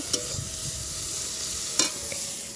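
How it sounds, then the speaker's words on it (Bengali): Shrimp frying in a little oil in a pan, a steady close sizzle with a couple of sharp spatula clinks and stirring scrapes, no voices. "চিংড়ি মাছটা গাইস ভেজে নেব"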